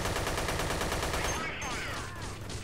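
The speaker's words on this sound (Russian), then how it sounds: "Охуенно динамично выглядит их перестрелка." Rapid video-game gunfire rattles in a fast shootout in Dead Effect 2, a dense burst of repeated shots that thins out toward the end.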